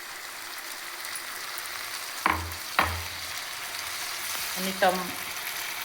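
Garlic and tomatoes fry in a pan for pav bhaji, a constant soft sizzle with a few sharp knocks and scrapes of stirring, and a brief spoken word over it.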